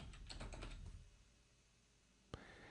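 Quick bursts of keystrokes on a computer keyboard, a rapid clattering run of taps followed by a pause and a single sharp key press, close and quiet.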